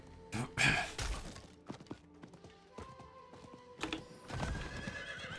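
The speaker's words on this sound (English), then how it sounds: "Okay, on the horse." A horse neighs loudly at the start in Diablo 4, followed by hooves clopping and scattered thuds, with a second burst of neighing and hoofbeats near the end.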